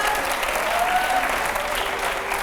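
A studio audience breaks into loud, sustained applause during a Hindi interview, a dense wash of clapping that stays strong throughout.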